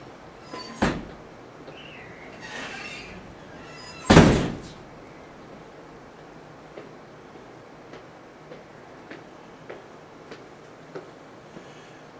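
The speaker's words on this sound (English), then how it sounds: "The door seems to be blowing open." A door bangs twice when the wind blows it open: a sharp knock near the start and then a louder slam, followed by faint scattered ticks over a quiet room hum.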